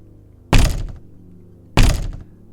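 Two loud, close knocks on a door, each a heavy hollow thud about a second and a quarter apart, with quiet between them.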